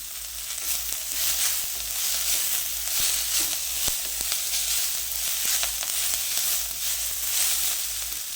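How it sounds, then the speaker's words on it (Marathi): French beans sizzling loudly in a hot pan for Indo-Chinese Schezwan noodles, a steady close hiss broken by occasional clicks and scrapes of stirring. "त्याच्यानंतर फरस बी घालून घेऊ"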